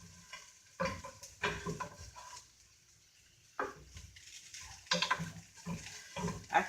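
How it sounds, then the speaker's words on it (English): Diced potatoes frying with garlic and onion in a pan get stirred in short bursts of scraping and clatter. Each burst rises over a faint, quiet sizzle. "Now I'm just going to give them a little stir"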